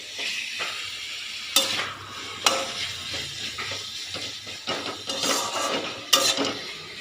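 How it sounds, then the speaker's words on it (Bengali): Rohu fish kalia gravy stir-fried in a pan, with a steady close sizzle broken by repeated sharp scrapes and knocks of the spoon against the pan in an uneven rhythm. "ভালো করে গ্রেভি কষিয়ে নেব।"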